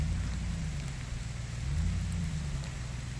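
Steady rain falls around a travel trailer being backed up on a Canada road trip, a continuous dense hiss over a low rumble with no voices.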